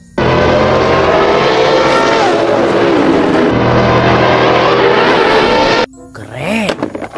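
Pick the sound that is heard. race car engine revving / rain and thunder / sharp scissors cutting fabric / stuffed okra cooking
race car engine revving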